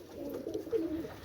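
Pakistani high-flying pigeons giving a low, soft, rolling coo, faint and close, with no other sounds around it.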